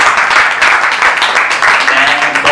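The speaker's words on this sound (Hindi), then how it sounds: "अपने लिए एक बार तालियां और बजा लो गाइस" An audience at a first open mic for poetry, music and storytelling in Bhopal claps loudly and continuously, with some voices mixed into the applause.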